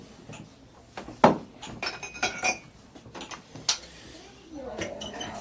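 Glasses clinking as someone searches for a clean one at a birthday celebration, several sharp chinks and clatters of glassware and dishes scattered through the clip, near and intermittent, with voices talking in the background.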